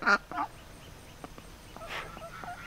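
A mother duck quacking near her ducklings on a farm: a few short, nasal quacks, the first loud and close, then softer repeated calls, with no talk.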